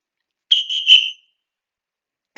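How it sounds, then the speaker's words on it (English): Three short, shrill lifeguard whistle blasts on a beach sound in quick succession, loud and close, followed by silence. "3 whistles rang out."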